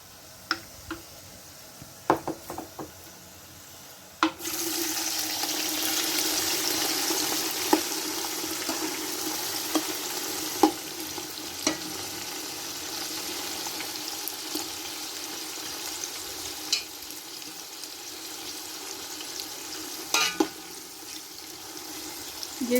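Onions dropped into hot oil with whole spices for chicken rice hiss into a steady, close sizzle that starts abruptly and carries on with scattered stirring clicks and scrapes.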